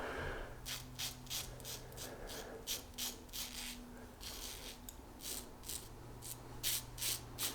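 An 18 karat gold plated double-edge safety razor cuts through stubble during a shave, making a quiet, close, rhythmic scratchy rasp in repeated short strokes.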